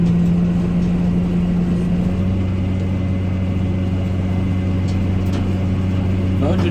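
A 135 horsepower tractor engine runs with a steady, loud low drone and a constant rumble, shifting pitch slightly partway through, with a voice talking over it.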